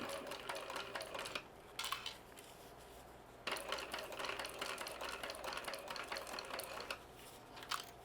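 A sewing machine stitching over a D-ring tab while a fabric wristlet is sewn, running in close, steady bursts of rapid mechanical whirring with a brief pause partway through.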